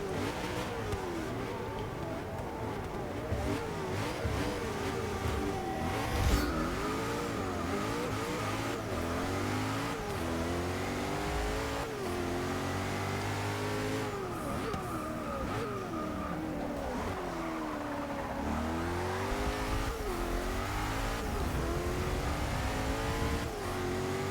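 Race cars in Forza Motorsport 6 career mode, engines revving and shifting up and down through gears in a long continuous run, with brief tire squeals and loud, close engine whine throughout.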